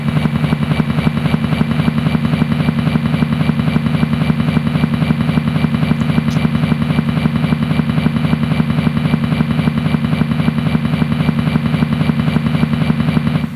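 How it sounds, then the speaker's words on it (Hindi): A helicopter thrums steadily as it comes in to land, its rotor chop loud and constant throughout with a deep rhythmic pulse. "डॉक्टर राजेंद्र प्रसाद का हेलीकॉप्टर उतर रहा है।"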